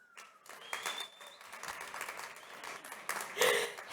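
A health congress audience applauds an introduced panelist, with scattered crowd clapping that rises and falls, some indistinct voices and whoops mixed in.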